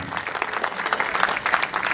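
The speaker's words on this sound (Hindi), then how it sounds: "जोरदार तालियों के साथ स्वागत" Clapping from a festival audience at a cultural programme fills the short stretch with a steady, dense patter. The applause is fairly loud and continuous, and there is no clear speech over it.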